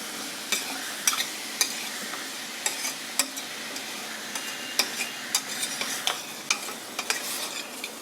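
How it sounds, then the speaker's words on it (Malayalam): Mutton for a Punjabi mutton curry being stirred as it fries in a pan, a steady sizzle under repeated sharp scrapes and clinks of the spoon against the pan at an irregular rhythm. "ഈ മീറ്റ് ഒന്ന് വൈറ്റ് ആവുന്നവരെ, ആ നിറം മാറി റെഡ് കളർ മാറി ഒന്ന് വൈറ്റ് ആവുന്നവരെ ഒന്ന് ഇളക്കുക."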